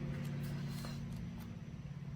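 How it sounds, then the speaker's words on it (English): Steady low rumble of traffic, cars and trucks passing at a distance, continuous with no talking. "She's hearing a few trucks, I think, and cars go by."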